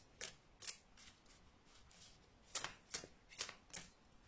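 Oracle card deck shuffled and cut by hand, a string of soft papery riffles and slaps in irregular bursts, close and fairly quiet with no talking.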